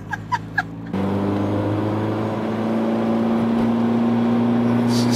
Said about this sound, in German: Das Auto ist aber auch sehr laut, ne?